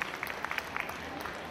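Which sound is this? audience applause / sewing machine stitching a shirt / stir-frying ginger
audience applause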